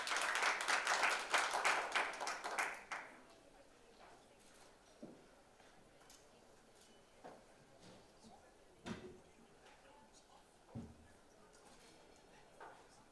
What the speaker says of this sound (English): Let's give him a round of applause as he comes forward.